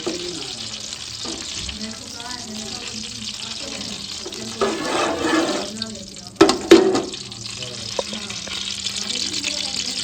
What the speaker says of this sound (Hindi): घी गर्म हो गया था, मैंने जो है ना भिंडी ऐड कर दी